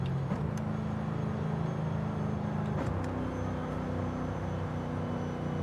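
A race car engine with straight-cut gears in Forza Horizon 5, a loud, steady droning rumble with a gear-whine tone that shifts pitch twice as the car changes gear.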